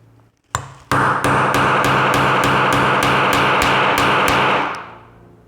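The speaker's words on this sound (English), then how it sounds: "I'm gonna give it a few more whacks here." A hammer repeatedly strikes an American A30 padlock, about a dozen sharp metallic whacks in a steady, fast rhythm, loud and close, ending in a fading ring.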